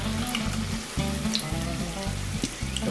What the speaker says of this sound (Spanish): Seguimos friendo.